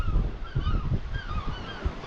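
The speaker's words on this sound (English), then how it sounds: "There's just seagulls all over the place at this time of year in Scotland." Seagulls call in short honking cries over steady wind and surf on the Scottish coast near Dunnottar Castle, with several birds crying at once at moderate distance.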